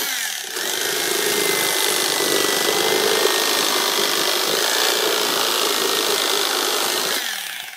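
Continuous rough rasping as a tool trims dry foam for an aquarium reef wall, loud and close, steady for about seven seconds with no talking.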